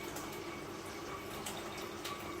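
Yellow-coloured water trickles softly into a pot of sweet rice in a home kitchen, a faint, steady pouring with light splashes and no talking.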